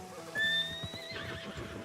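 A horse in a video game whinnies once, a rising then falling neigh over soft background tones and light clopping, fairly close and clear.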